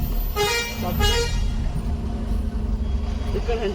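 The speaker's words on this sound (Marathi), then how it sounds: "मानगावला फुल ट्राफिक आहे मानगावला आज" Car horns honk in a traffic jam in Mangaon, two clear toots near the start and a fainter one at the end over a constant rumble of idling road traffic.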